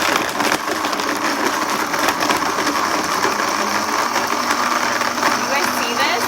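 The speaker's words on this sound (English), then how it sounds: "Okay, we're just gonna blend this." A blender whirs steadily and loudly throughout as it blends strawberries and ice into a slushy, a continuous dense grinding with no pauses.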